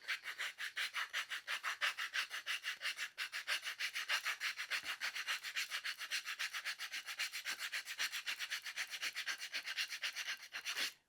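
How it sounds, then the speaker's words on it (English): Sandpaper bevels the edge of a wooden dowel handle for a toolbox, with fast, even back-and-forth rasping strokes repeating steadily and close for about eleven seconds. "I'm then going to move the sandpaper back and forth while I rotate the dowel to bevel it."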